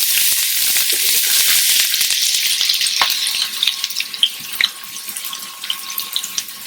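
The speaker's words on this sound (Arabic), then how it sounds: "بنقلي البصلات شوي قبل ما نحط التومات" Onions fry in hot olive oil with a bright, crackling sizzle that is dense at first and then thins into scattered pops and spits.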